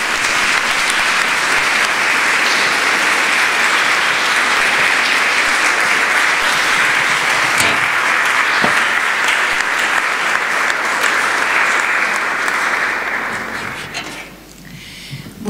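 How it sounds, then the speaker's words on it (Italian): Loud, sustained audience applause at an evening concert in L'Aquila's Palazzo Pica Alfieri, many hands clapping steadily for about fourteen seconds before fading away near the end. "l'applauso che adesso avete fatto lo facciamo a Marcello Mariani"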